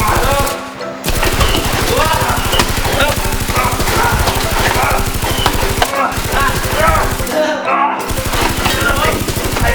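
Rapid, repeated Nerf Mastodon blaster shots in a mock superhero battle, a steady clattering stream of close, loud pops with a few short pauses.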